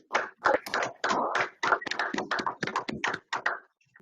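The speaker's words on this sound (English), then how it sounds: "Can we give Jocky a big clap from everyone who's still online?" Online audience applause at the close of a paragliding talk, a run of irregular claps and taps lasting about four seconds, fairly close and with no voices.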